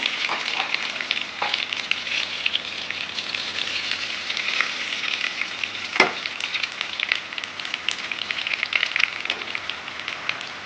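Garlic cloves and curry leaves sizzle in hot oil for a horse gram saaru, a steady close crackling hiss with scattered pops and one louder spit partway through.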